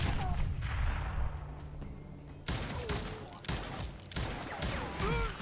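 Gunfire in the Call of Juarez Gunslinger video game, a chaotic mix of repeated sharp shots and crackling bursts over a background game soundscape, with a sudden louder volley midway and no speech.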